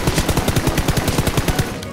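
Rapid automatic gunfire from a Peace Elite battle, a steady string of sharp, evenly spaced shots lasting about two seconds with no talking.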